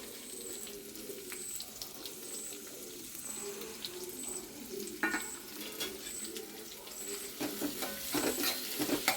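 Onions frying in hot sunflower oil in a home kitchen while making Angamaly pork biryani, a steady close sizzle and crackle with faint clinks of a stirring spoon against the pan.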